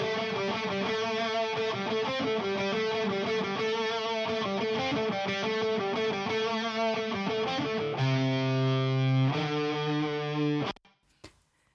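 Higher-register distorted electric melody guitars play a sustained, layered line alone, steady and full, then shift to held chords before cutting off abruptly near the end.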